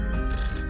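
A telephone rings in a brief, steady electronic tone burst lasting under a second, heard clearly with no speech over it.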